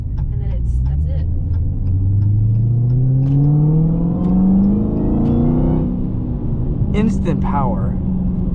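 A Dodge Challenger Hellcat Redeye widebody accelerates with a supercharger whine rising steadily in pitch over a deep engine rumble, then drops back. A voice speaks briefly near the end.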